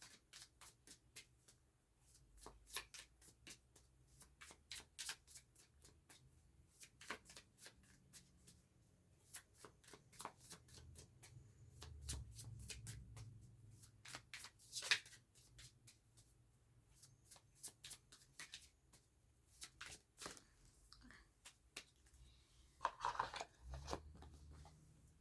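Tarot cards are shuffled repeatedly in quick riffles and taps, close and fairly quiet, with bursts of crisp flicking spread across the whole stretch.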